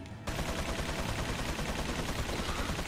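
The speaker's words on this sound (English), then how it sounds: "I can finally unload some of my Magnum ammo." Magnum gunfire in Resident Evil 4: a loud, dense burst of shots starts after a brief quiet moment and carries on steadily to the end, with no talking.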